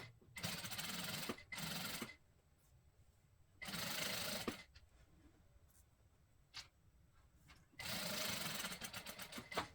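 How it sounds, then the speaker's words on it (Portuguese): Sewing machine running in three separate bursts as it stitches a detail onto a bag, each burst a steady mechanical whir of a second or so, with quiet pauses and faint handling noises between them. "vou alinhar o meu detalhe com ela e vou passar uma costura"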